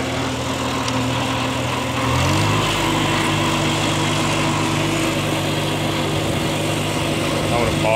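A 1952 Farmall Cub tractor running steadily while planting corn in a garden, a close, continuous light engine drone that rises in pitch and load partway through, with a voice heard over it.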